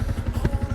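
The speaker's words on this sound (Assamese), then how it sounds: "বলক বাইকখন ষ্টাৰ্ট দিছোঁ" A motorcycle engine running at idle with a rapid, throbbing low-pitched pulse, close by and fairly loud, a steady rhythmic putter with no voices.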